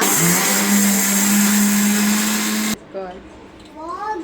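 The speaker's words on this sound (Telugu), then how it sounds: "ఇప్పుడు ఏం మిక్సీ పడుతున్నారు?" A mixer grinder whirs loudly and steadily for a few seconds, grinding paste for mango pickle, then cuts off abruptly, leaving a voice talking.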